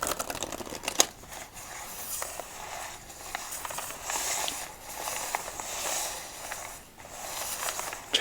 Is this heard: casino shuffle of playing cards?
yes